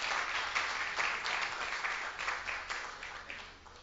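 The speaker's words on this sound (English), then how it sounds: "Let me hear you give a round of applause for." An audience at a Bordelais Correctional Facility awards ceremony breaks into a full round of applause, dense, bright and steady before tapering off slightly at the end.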